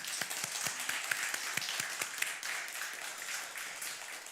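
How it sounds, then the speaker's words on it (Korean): Church congregation applauding at a Korean Sunday sending-off service for a ministry worker, a steady patter of many hands clapping at moderate distance, with sharper individual claps standing out. "우리 큰 박수로."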